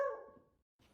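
A dog gives a single short bark that quickly fades, then faint rustling follows; nobody speaks.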